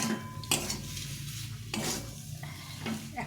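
Red potatoes frying with spices in a pan and being stirred: a steady sizzle with repeated scraping strokes of a spatula against the pan and light metallic clinks.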